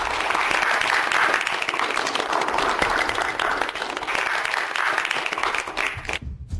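Loud, sustained audience applause as a CEO's wife is invited onto a stage, with a thick, continuous wash of many hands clapping that cuts off abruptly near the end.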